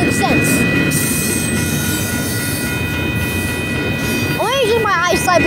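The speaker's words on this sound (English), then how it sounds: "Ooh, the train going backwards." A Union Pacific freight train rolls through El Paso, a steady broad rumble of cars and wheels continuing throughout, with a high steady tone and rising squeal-like sweeps near the end; a person talks over it.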